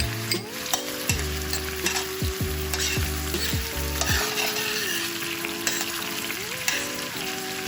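Green onions sizzle steadily in a hot pan on a lowered flame, a continuous bright frying hiss with a few clinks and scrapes of the pan in the first half.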